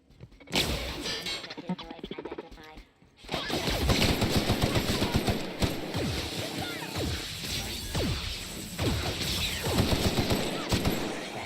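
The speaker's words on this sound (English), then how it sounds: "Oh god, what is shooting at me?" Automatic gunfire rains on the player in The Outer Worlds, sustained bursts of shots with impacts and crashes after a brief quiet lull, loud and close.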